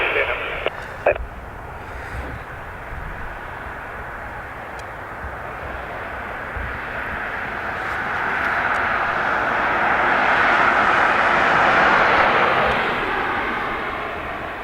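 A Ryanair airliner takes off from runway 2 right at Dublin Airport, the engine roar building gradually and peaking near the end as it passes, after a brief crackle of radio at the start.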